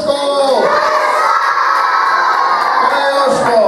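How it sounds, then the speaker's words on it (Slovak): A crowd of kindergarten children shouts a name together at a school visit by a band, a loud, sustained chorus of young voices lasting several seconds. "Zakričíme, Jožko!"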